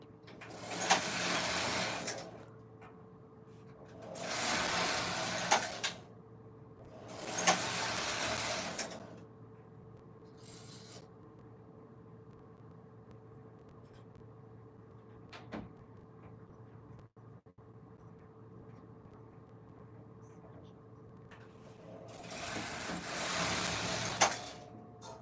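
A Silver Reed knitting machine working stitches, its carriage making repeated rattling, whirring passes in bursts of a few seconds with quiet gaps between, close up and without talk.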